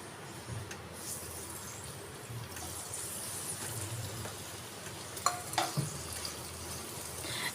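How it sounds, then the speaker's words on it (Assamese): Paneer pieces frying in oil in a kadhai, a soft continuous sizzle with occasional stirring clinks and scrapes. "এতিয়া পনীৰকেইডোখৰ ইয়াত মই ভাজি ল'ম।"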